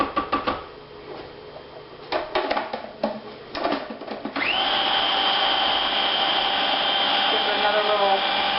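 Food processor blending hummus made with tahini, a few short choppy pulses followed by a sustained loud whirring motor that runs on steadily to the end.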